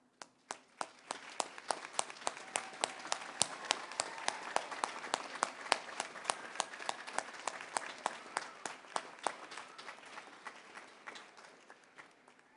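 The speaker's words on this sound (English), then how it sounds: "all of us thank you with" Audience at a community college commencement ceremony claps in crisp, distinct hand claps rather than a dense roar, building to a steady pace and then gradually thinning out.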